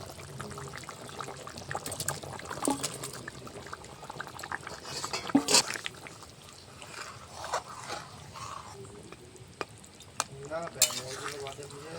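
Rohu fish and fish roe tipped from a pan into a simmering curry, giving soft scraping, stirring and liquid bubbling at close range, with occasional sharper clinks of utensil against pan.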